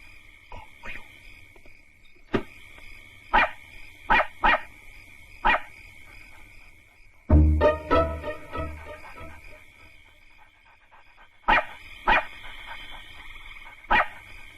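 A dog barks loudly outside a rural home, with sharp barks coming in clustered bursts and a heavier, rumbling commotion partway through.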